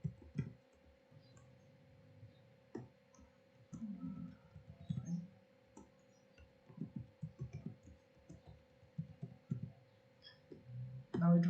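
Someone types a password on a computer: sparse, irregular light key clicks, quiet and close, spread across a faint steady hum, with pauses between bursts.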